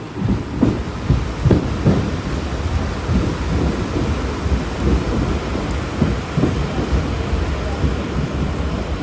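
Heavy rain pours down at Kanhangad railway station, a dense roaring wash with a low rumbling undertone and some rhythmic thuds early on, loud and continuous throughout.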